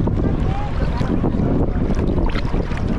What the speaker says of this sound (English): it's more windy today